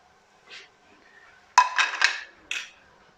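A spoon clinks and scrapes against a clay pot while stirring cumin, chili powder, fenugreek and garam masala with onions, giving a few sharp close knocks in quick succession and then one last tap.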